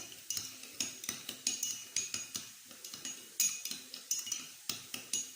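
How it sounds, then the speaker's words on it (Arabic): A spoon mixing hot sauce and mayonnaise in a bowl for a summer sandwich sauce, with quick, regular metallic clinks and scrapes close up, repeating steadily throughout. "وغادي نزيد واحد المعلقه كبيره ديال الصلصه الحاره، وغادي نخلط مزيان"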